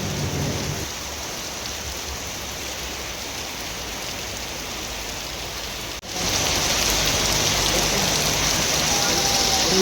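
Monsoon rain in Odisha comes down as a steady hiss. Around six seconds in it swells into a heavier, closer downpour that keeps drumming loudly on surfaces.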